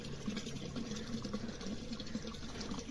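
Water runs steadily into a drum at a Himachal hillside home, a continuous gushing fill with a faint engine-like hum beneath, no talk over it.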